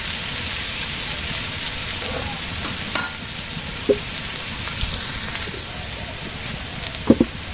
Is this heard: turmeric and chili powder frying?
yes